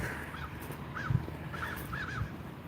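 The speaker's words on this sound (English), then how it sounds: "Some birds flying around." Crows caw outdoors during an evening walk, several short rasping calls in a loose series, moderately distant and faint over low background ambience, with no talking.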